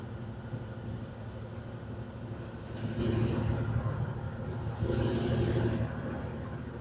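A 1981 Peterbilt 359 truck rolls along with a steady low engine drone and road rumble that swells slightly partway through, heard from close by with no voices.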